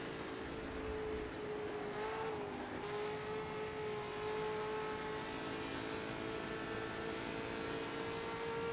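Historic endurance race car engine in the Assetto Corsa racing game, a sustained steady drone with a brief dip around two seconds as the car works through corners, heard alone without talk.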